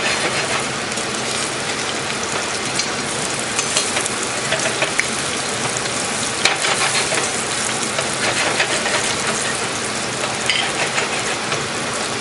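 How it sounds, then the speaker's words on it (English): Salmon sizzling in a pan, a dense, constant crackling hiss with small pops, heard close and alone for the whole stretch. "This salmon is going to be cooked. I'll turn it over, it'll finish cooking on the other side"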